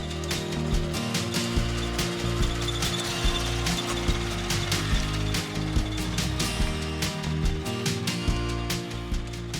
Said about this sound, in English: I've been mowing this area short with the reel mower to encourage it to fill in